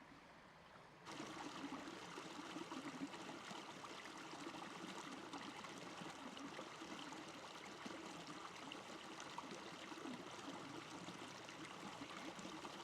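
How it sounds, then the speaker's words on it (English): A babbling creek flows steadily on a dairy farm, its broadband burble and trickle continuous and close after a short quiet opening. "Like listening to this babbling creek."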